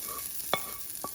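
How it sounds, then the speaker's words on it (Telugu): Spices tempering in hot oil for a home-cooked meal, with a steady sizzle and two short, sharp crackles or stirring knocks about half a second apart, close up and without talk. "పోపులో వేసి లైట్గా పోపులు అన్నీ లైట్గా వేయించేసి"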